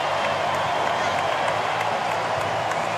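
A large crowd at a blind football gold medal match in Paris roars and applauds continuously, a dense, loud wash of cheering that fills the whole stretch.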